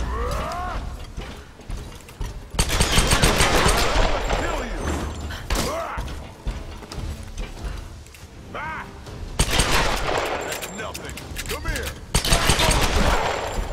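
Gunfire in the video game Tomb Raider, rapid bursts of shots in several loud clusters with mechanical clatter between them, mixed with game sounds and some talk.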